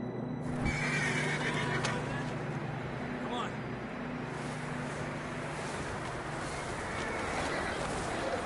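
A horse whinnies loudly and close in the video game Red Dead Redemption 2, then fades into steady wind and outdoor ambience with faint hoofbeats.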